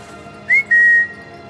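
A person whistles a short, bright rising note followed by a longer steady tone lasting about half a second, clear and close against a quiet background.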